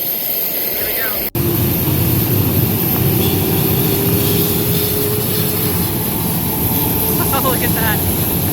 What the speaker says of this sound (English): starting up this engine, making sure the fuel transfers correctly and that the engine runs correctly